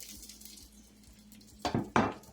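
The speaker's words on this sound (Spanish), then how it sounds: "mezclamos muy bien la leche de coco y la vamos a verter" Coconut milk gets mixed for a chicken curry beside a frying pan, a quiet kitchen background broken near the end by two sharp metallic clinks of a utensil against the cookware.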